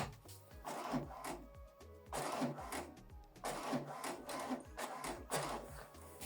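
An HP Deskjet Plus 4100e-series inkjet printer runs an alignment page, with its print carriage shuttling in repeated whirring passes and a rhythmic mechanical chatter, close and fairly quiet, with no talk.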